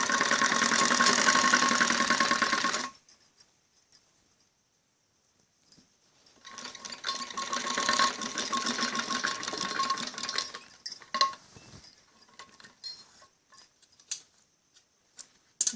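A sewing machine stitches kameez fabric in close bursts: a fast whirring run, a quiet gap, then a longer run that slows into scattered ticks and clicks.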